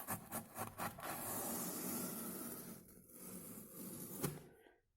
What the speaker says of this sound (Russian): Теперь берем обычный такой шпатель и убираем остатки клея.